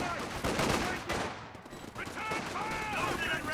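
Machine gun fire in a Company of Heroes 2 two-versus-two match crackles in rapid bursts, with heavier gunfire in the first half and a commentator talking over the battle.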